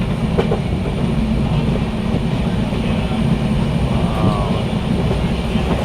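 A passenger train running along the rails, a loud continuous rumble with steady wheel clatter heard from inside the carriage.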